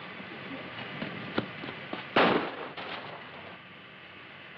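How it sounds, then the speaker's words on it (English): A single muffled gunshot cracks out in a 1941 film set around a train, one short burst over a steady hiss, moderately loud and somewhat distant. "What was that? Sounded like a shot."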